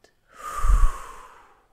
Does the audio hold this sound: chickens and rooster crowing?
no